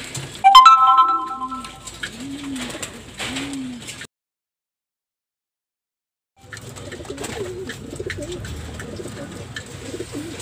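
Racing pigeons coo and call in a loft after purging, a chirp-like burst up front, then a gap of silence before low cooing and rustling resume at moderate level.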